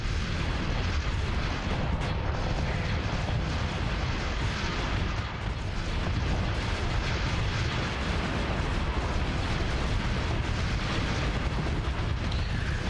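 Spaceship weapons fire in the Starsector video game forms a dense, continuous rumbling barrage of booms and blasts, loud and unbroken for the whole stretch.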